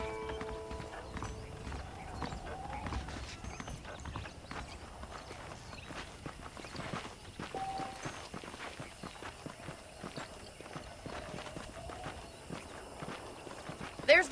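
Saddled horses in the Red Dead Redemption video game clip-clop along at a walking pace, steady hoofbeats over a low ambient bed with an occasional whinny, while someone talks over the scene.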